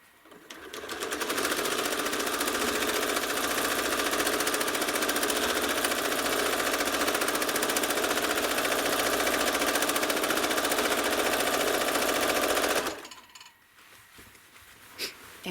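A home sewing machine quilting a Tuscan Vintage quilt runs in one long steady whirring burst of rapid stitches, loud and close, then stops abruptly, leaving quiet handling noises.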